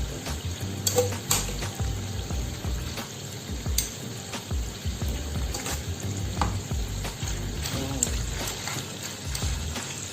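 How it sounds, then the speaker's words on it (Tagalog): Pork adobo sizzling and frying in a pan with oil, a steady crackle with occasional stirring and clinks of utensils against the pan, close and continuous with no talking. "Hintayin natin siyang mag-fry ng konti"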